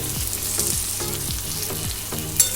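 Chopped onions and a whole onion frying with garlic in a pan for a light meat curry, a bright close sizzle broken by four or five rhythmic scraping stirs, no talking.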